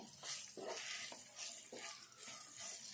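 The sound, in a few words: frying bitter gourd pieces with green chillies and salt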